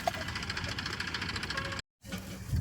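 A low engine idles with a steady, rough knocking rumble, briefly cutting out before resuming.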